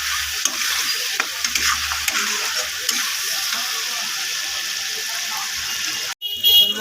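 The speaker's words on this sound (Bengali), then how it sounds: "টমেটোটা মশলার সঙ্গে ভালো করে কষিয়ে নেব আমি।" Tomato with turmeric, salt and spices sautéing in a pan for a fish and eggplant curry, a steady sizzle under repeated spoon stirring and scraping, close and continuous, ending abruptly.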